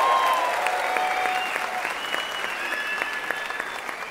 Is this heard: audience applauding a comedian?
yes